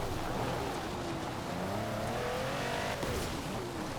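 A Mercedes 6x6 truck in Forza Horizon 4 drives with a continuous engine roar that climbs steadily in pitch as it accelerates, dipping briefly near the end as if shifting gear, loud and up close.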